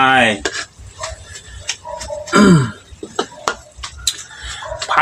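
Pork stir-fried with holy basil leaves in a pan: metal utensil scrapes and clatters against the pan in an uneven rhythm, with faint sizzling and brief voice-like sounds mixed in.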